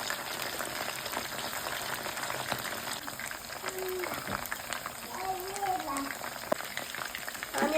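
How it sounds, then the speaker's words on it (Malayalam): Chicken fries in a pan with a steady, dense sizzle and crackle that runs throughout, close and fairly loud, under a voice talking. "ഫ്ലെയിമിലിട്ട് ഫ്രൈ ചെയ്തെടുക്കും."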